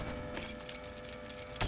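Close, crisp jangling of keys in The Talos Principle video game, a bright metallic rattle that starts abruptly and continues in a dense cluster before ending with a final clink.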